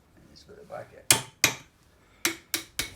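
A hammer striking a chisel to crack open a front wheel bearing on a 2014 Citroen C4, five sharp metallic blows at uneven intervals, close and loud, after a few faint knocks.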